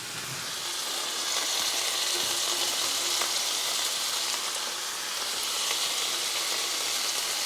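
Shallots sizzle in a hot pan alongside hanger steak, a steady, loud frying hiss that stays even and continuous throughout, with no talking.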